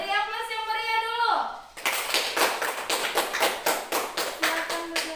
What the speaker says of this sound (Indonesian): Beri aplaus yang meriah dulu.